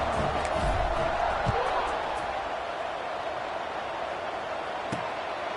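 A stadium crowd at a college football game, heard as a loud, steady roar of many voices with scattered thumps, swelling at a kickoff in the fourth quarter.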